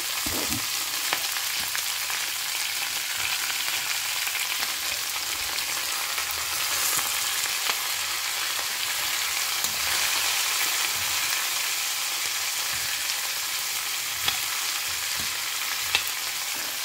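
Cut cabbage sautéing in a pan with dal and curry leaves: a loud, continuous crackling sizzle fills the whole stretch, close up, with occasional small clicks from stirring and no talking.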